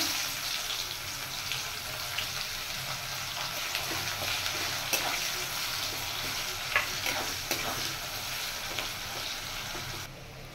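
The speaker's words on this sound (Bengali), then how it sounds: "এবার দিয়ে দেব কুচিয়ে রাখা পেঁয়াজ। এবার পেঁয়াজ দিয়ে দিচ্ছি।" Chopped onions fry in a pan of oil with cumin, dried red chilli and bay leaf, a steady dense sizzle running throughout with faint stirring scrapes and small crackles, no voices.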